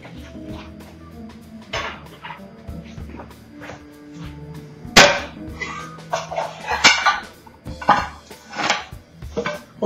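Stainless steel frying pans being handled in a kitchen, with clanking metal knocks and rattles at irregular intervals, some sharp and loud, over a low background.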